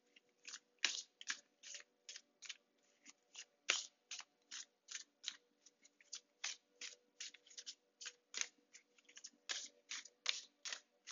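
Large tarot deck being shuffled, a rapid series of crisp card riffles and flutters in quick bursts, close and fairly quiet, with no voices.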